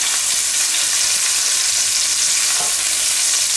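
Food sautés over high heat in a frying pan, making a loud, dense, continuous hiss of sizzling oil that holds steady throughout, with a faint stir partway through and no voices.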